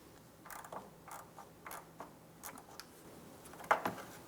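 A ratchet wrench with a 19mm socket turns counterclockwise to loosen the lower radiator drain plug on a 2004-2008 Pontiac Grand Prix 3.8L V6, giving a series of faint, close mechanical clicks and creaks spaced irregularly, with one sharper clack near the end.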